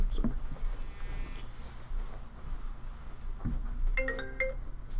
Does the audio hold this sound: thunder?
no